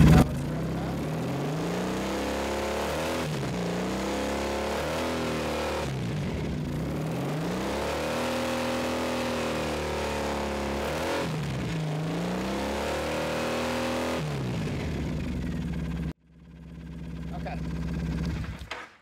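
A Triumph 900 motorcycle engine with a newly installed charging system runs continuously close by, with repeated revs rising and falling in pitch, then cuts briefly before restarting near the end.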